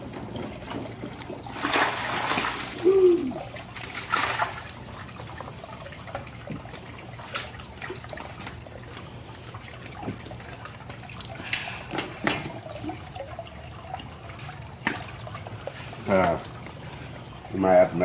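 Water splashes and trickles in bursts as bluegill are scooped from a homemade bait tank, close and uneven, with occasional voice sounds in between.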